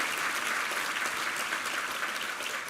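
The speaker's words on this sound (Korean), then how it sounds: "한번 힘찬 격려 박수 부탁합니다" A church congregation at Sunday worship clapping in encouragement, dense even applause filling the room at moderate volume without letup.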